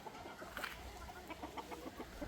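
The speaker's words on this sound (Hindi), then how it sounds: "अभी मुर्गी जितनी थी ना बाहर, सब लोग अंदर आ गई।" Chickens in a yard clucking softly and intermittently, a few scattered calls over a low steady background hum, moderately distant and fairly quiet, with no talking.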